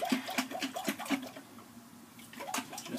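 Aloe vera gel mixture sloshes inside a container being shaken by hand, a rhythmic series of quick liquid splashes that pauses briefly midway, then resumes.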